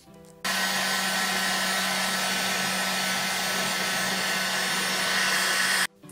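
A hair dryer blows on decoupage on a recycled frying pan, switching on abruptly with a loud, steady, close whooshing roar that holds for about five seconds before cutting off.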